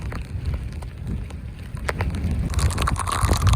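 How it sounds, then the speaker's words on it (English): Rain patters steadily while gusty wind rumbles against the microphone at St Lucia estuary mouth, growing louder and busier toward the end. "howling the wind and the rain and everything"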